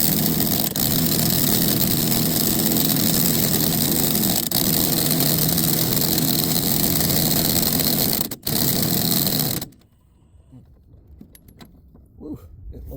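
Impact wrench hammering loudly and steadily on a wheel bearing of a 2006 Nissan Sentra for about nine seconds, with one brief pause near the end. It cuts off abruptly, leaving quiet shop background.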